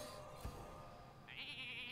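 Faint sheep bleat from the Hearthstone card game, one short wavering cry near the end over quiet game background sound.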